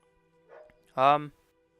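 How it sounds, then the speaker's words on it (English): A pet dog barks outdoors, one short whimpering yelp followed by a single louder bark, heard faintly at a distance and alone. "I apologize for if you can hear my dog. He's losing his mind because he's outside"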